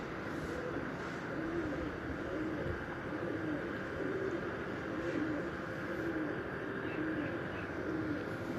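Breeder pigeons coo softly and repeatedly at a distance, forming a low, continuous murmur under steady background noise, with no talking.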